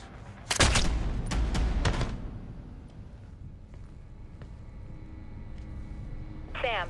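Gunfire in the stealth game Splinter Cell Blacklist: a loud burst of several rapid shots up front, then a quieter stretch of ambient game noise with a faint sharp sound at the end.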